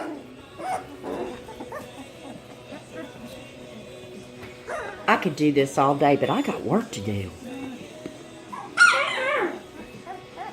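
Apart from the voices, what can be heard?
three-week-old puppies whimpering and yipping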